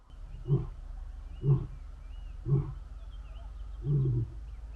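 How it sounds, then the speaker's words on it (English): Male lion roaring in the bush: four deep, grunting roar pulses spaced about a second apart, the last one longer and drawn out, heard from a moderate distance with quiet surroundings. "so he just roared again now"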